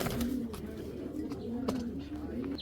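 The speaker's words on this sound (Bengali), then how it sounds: "একজোড়া বাঘা কবুতর" Pair of Silver Bagha pigeons cooing in soft, low, rolling calls, close and steady against faint background noise.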